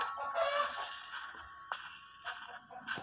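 Chicken clucking inside the mobile horror game House of Slendrina, a few short sharp bird calls over a steady game ambience, moderately close and not loud.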